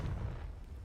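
Confringo fire spell exploding in Hogwarts Legacy, a dense low booming blast that rumbles steadily through the short moment, moderately loud with no voice over it.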